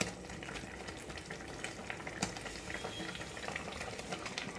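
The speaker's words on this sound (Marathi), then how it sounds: "आता त्याच्यामध्ये ना हे जे वांगेत आपण फ्राय केले होते शॅलो फ्राय ते त्याच्यामध्ये टाकून घ्यायचे." Shallow-fried eggplant is stirred into a simmering creamy gravy in a pan, giving a steady close sizzle and bubbling with faint scraping from the spoon, continuous and without talk.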